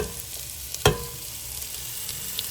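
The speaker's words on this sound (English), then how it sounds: "I got the oil heated up, and we're going to go ahead and put in the chopped onions" Chopped onions and carrots sautéing in hot oil for a spicy cabbage soup, a steady close sizzle with one sharp clatter of stirring near the start, and no talking.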